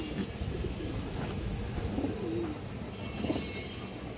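Silver giribaz pigeons coo softly in a loft, with low repeated calls over a constant background hiss.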